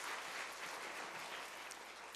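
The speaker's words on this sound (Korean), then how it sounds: "다시 한번 크게 박수를 한번 부탁드리겠습니다." Sustained applause from a church congregation at a seminar, dense steady clapping filling the room without pause.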